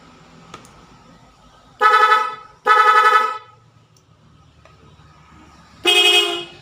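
A loud dual-tone car horn wired to a touch sensor blasts three times, two quick honks close together and a third after a pause, nearby with faint background noise.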